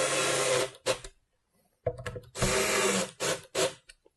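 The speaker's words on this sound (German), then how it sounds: "Wenn wir diese Schrauben jetzt wieder festdrehen," Screws being tightened with a power driver on a cajon assembly kit, heard as several loud, close bursts of whirring with short pauses between them.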